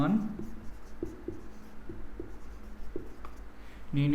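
A pen writes a math answer by hand on paper, making faint scratching strokes and small taps close by, with a voice speaking briefly near the end.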